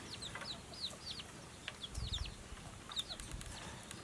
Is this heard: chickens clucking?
yes